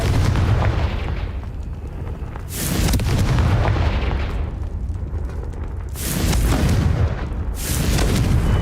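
Confringo fire spell explosions in the Hogwarts Legacy video game, loud deep booming blasts recurring in waves with rumbling decay between them.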